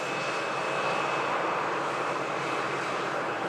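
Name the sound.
airliner arriving at Manchester Airport from Palma de Mallorca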